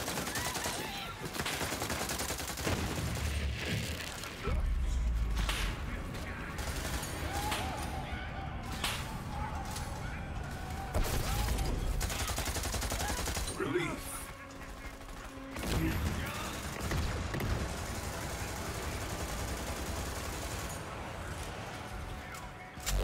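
Rapid shots from the Light Show, a legendary repeater pistol in the video game Borderlands 3, crack in quick sharp bursts through a noisy, ongoing firefight, fairly close with steady background combat noise.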